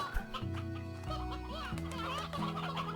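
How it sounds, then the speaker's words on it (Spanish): Game-world chicken clucking in the farming game Slime Rancher, a few short clucks over steady background game music, fairly close and moderately loud. "¿Por qué una gallina ahí afuera?"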